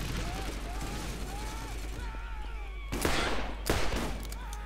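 Shotgun blasts in the Borderlands video game, two loud bursts arriving close together over steady background game music and effects.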